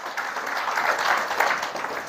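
A church congregation breaks into steady applause during a worship sermon, a dense wash of many hands clapping together that holds evenly for about two seconds with no voices on top.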